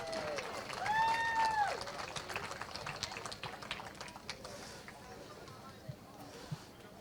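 Crowd applause at a karting prize-giving for the second-place Mini X30 driver at the Kartmasters Grand Prix, a dense, steady patter of clapping with a voice heard briefly near the start.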